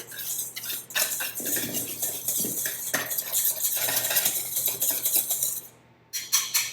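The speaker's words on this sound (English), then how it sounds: "I'm going to whisk it up just to blend" A whisk rapidly blends flour, salt and baking soda in a bowl for cookie dough, a close, busy scraping and clinking against the sides that runs for several seconds, then briefly pauses and resumes.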